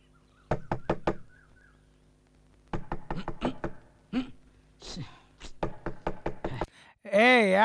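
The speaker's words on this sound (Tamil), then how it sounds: "ஏய், யாரா அது நடுராத்திரில கதவை தட்டிக்கிட்டு?" Someone knocks on a door at midnight in repeated sharp bursts of three to five raps separated by short pauses, close and loud in a quiet room, followed by a voice at the end.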